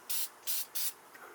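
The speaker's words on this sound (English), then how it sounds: "we're just going to hit this with a little bit of brake cleaner" Brake cleaner sprayed in three short hissing bursts onto the rear drum brakes of a 1976 Triumph Spitfire 1500, each blast about a quarter to half second, close and even, with a fainter hiss trailing at the end.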